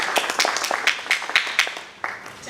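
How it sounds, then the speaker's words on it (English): Audience applause at a Kenya Diaspora Conference in Atlanta, a crowd clapping with dense overlapping claps in bursts over about two and a half seconds, fairly close and moderately loud. "I would like for us to clap for you"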